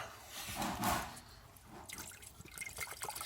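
Seafoam fuel treatment is poured into a Cummins diesel fuel filter housing, a close, soft splashing and trickling of liquid that gurgles briefly and then continues in uneven dribbles.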